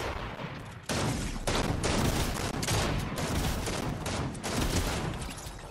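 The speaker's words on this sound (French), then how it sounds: "Il y a quelqu'un qui tire d'en bas, là en bas" Dense, loud gunfire bursts into sustained volleys of rapid shots after a brief quiet start, fired from somewhere below, continuing in overlapping waves without speech.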